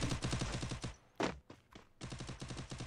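Rapid bursts of gunfire in a competitive 4v4 shooter match ring out loud and close, pause briefly for a couple of scattered shots, then resume in fast repeated volleys.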